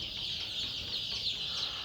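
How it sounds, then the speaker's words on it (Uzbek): Nine-day-old Andijan black chicks peeping together, a continuous high chorus of thin calls, fairly close and steady. "Andijon qora tovuq"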